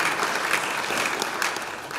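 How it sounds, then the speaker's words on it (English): Dense, continuous applause from a large crowd at a university commencement ceremony rolls on steadily without a break, with no talk over it. "So a round of applause for all the staff that has put this together."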